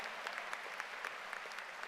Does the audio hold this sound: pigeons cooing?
no